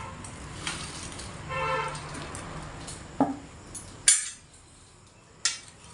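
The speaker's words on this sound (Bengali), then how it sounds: "তো এবার আমি তেল ঝরিয়ে বড়াগুলোকে একটা আলাদা পাত্রের মধ্যে তুলে নিচ্ছি।" Fried palm-fruit fritters being lifted from hot oil into a separate pot, heard as a few sharp metallic clinks of a utensil against cookware spaced through the clip over faint background hiss.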